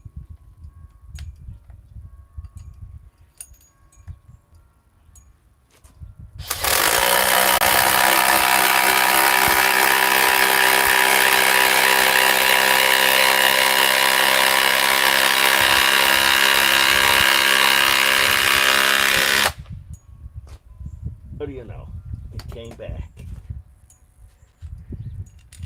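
A DeWalt cordless power tool whirs loudly and steadily for about thirteen seconds while driving a large screw, close up, with quieter handling noises before and after the run.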